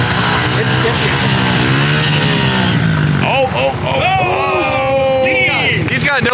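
A pit bike engine revs nearby, its droning pitch rising and falling, then continuing behind lively overlapping talk in the second half.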